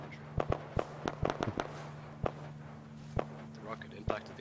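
In a military video game campaign mission, a string of sharp, popping detonations crack out irregularly, several bunched in the first second and a half, then scattered single bangs, fairly faint and distant over a steady low hum.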